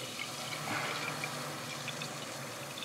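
Water rushes steadily through a pipe cleared with acid, a constant faint hiss and gurgle with no pauses.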